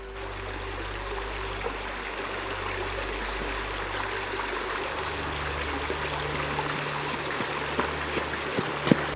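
Taylor Creek in Kolob Canyon, Zion National Park, flowing steadily over rocks, a continuous close rush and babble with a low rumble underneath, holding even throughout and ending with a small splash.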